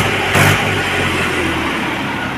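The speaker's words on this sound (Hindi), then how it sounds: "आवाज बहुत बढ़िया काटी ट्रैक्टर ने।" A Mahindra 265 tractor engine runs steadily at high throttle, a loud continuous mid-pitched rumble with a brief surge near the start and no speech over it.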